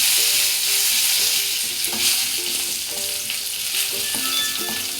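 Rice and curry leaves fry in oil for a Kerala-style cheera thoran, a spinach stir fry with coconut, giving a loud, continuous sizzle with occasional stirring scrapes close by.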